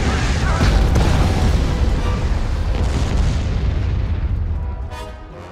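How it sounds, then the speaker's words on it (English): Bombers in Star Wars Empire at War make a bombing run, setting off a dense, loud stretch of booming explosions that rolls on for several seconds and then slowly fades. "Bombers standing by. Commencing bombing run."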